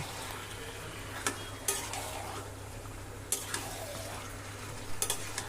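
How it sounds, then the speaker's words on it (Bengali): Marinated meat frying in oil with browned onions over raised heat, a low, steady sizzle punctuated by several metallic clanks and scrapes of a utensil against the pan. "এই সময় গ্যাসটা বাড়িয়ে তেলের মধ্যে মাংসটা একটু ভেজে নেব"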